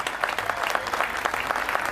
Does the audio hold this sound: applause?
yes